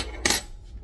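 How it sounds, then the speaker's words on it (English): A spoon stirring a sugar-free mixture in a bowl gives one brief, bright clink of metal against the dish, heard close over a steady low background hum. "So, let's stir all that up real good."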